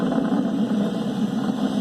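SpaceX Falcon 9 Merlin 1D engines roaring at full power after max Q during the May 30, 2020 launch, a steady, dense, low rumble with constant loudness, heard alone.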